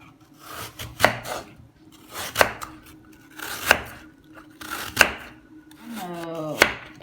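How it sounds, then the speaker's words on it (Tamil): A knife peels and slices an apple on a board, with several crisp cutting thunks spaced roughly a second apart between softer scraping strokes, close and fairly quiet. "அதால் நான் எப்போவுமே ஆப்பிளை சீவி போட்டு தான் யூஸ் பண்ணுறது."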